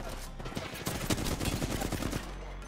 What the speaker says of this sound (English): Just shoot in their general direction.